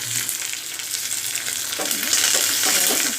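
Dried red chillies, onion and curry leaves sizzle loudly in hot oil as a tempering for a field-bean sambar, a dense continuous frying crackle with occasional stirring scrapes, close and without talk.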